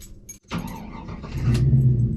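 A 1986 Chevrolet C10 truck with an LS engine starts up close by: a short crank, then the engine catches and rises into a loud, steady idle that swells toward the end.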